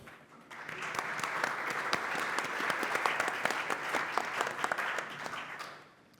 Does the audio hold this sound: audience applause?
yes